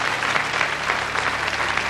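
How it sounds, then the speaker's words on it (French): A small audience of children and fans on a French television show clapping together, steady dense applause lasting a couple of seconds. "Voilà, on applaudit très fort."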